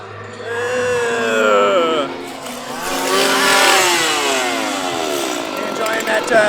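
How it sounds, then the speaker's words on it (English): A chainsaw engine whines and rises in pitch, revving up and down continuously, fairly loud and close, in a scare zone at Halloween Horror Nights 2023. "Oh my gosh, I hear chainsaws!"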